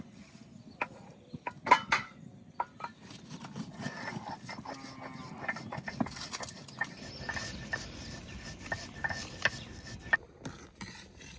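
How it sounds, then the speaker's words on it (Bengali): Roasted cumin seeds being ground on a grinding stone, with irregular close scraping strokes and sharp knocks, some louder clacks early on and a steady gritty rasp throughout. "ভাজা জিরা বেটে নেব।"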